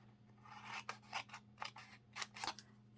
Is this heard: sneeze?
no